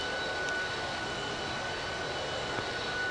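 A jet airliner's engine hums steadily during pushback in a flight simulator game, a constant droning roar with a faint high tone, continuous and fairly quiet, with no talking.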